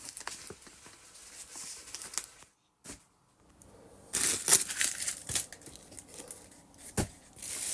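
Crinkling, crumpling and tearing of packaging tape and wrapping as a taped parcel holding sunglasses is pulled open, in bursts with a short quiet gap, close and fairly loud toward the end.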